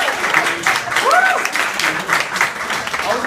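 Crowd applause at a political rally in Ottawa, steady clapping and cheering throughout, with a voice speaking over it.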